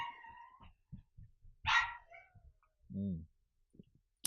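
Dogs bark and yip intermittently in the background, a few sharp barks and a short howl-like cry separated by quiet gaps, with faint talk between.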